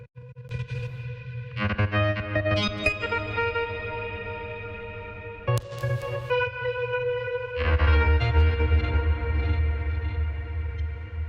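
Granular audio effect chained after reverb on a synth sound, giving a broken, glitchy, heavily processed texture with sustained tonal layers, sudden bursts and shifts, loud and continuous throughout with no talking.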